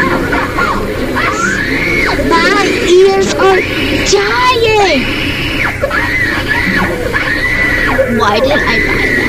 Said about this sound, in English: I found a screaming kitten, so I'm gonna just scream that.